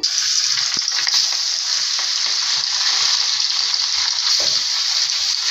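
Hilsa fish sizzles steadily in hot oil in a wok, a dense continuous frying hiss with faint clinks, close and loud throughout with no talk.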